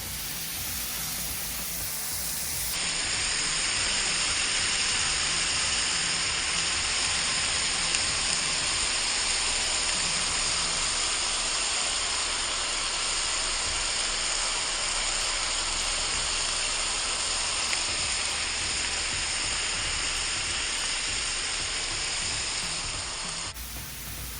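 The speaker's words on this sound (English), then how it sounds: "Got it on high heat. I just want to get a good sear on this burger." A burger seared on a Blackstone griddle over high heat gives a steady, loud sizzle and hiss that holds evenly throughout, with no talking.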